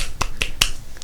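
Three or four sharp, separate hand claps ring out close and crisp in quick succession over a quiet room.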